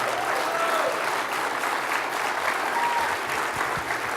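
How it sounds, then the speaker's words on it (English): Sustained audience applause at a national media reform conference, dense and even, filling the hall without a break and with no voices over it. "Let's give them a round of applause"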